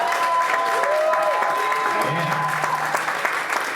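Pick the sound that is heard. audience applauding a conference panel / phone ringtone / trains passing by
audience applauding a conference panel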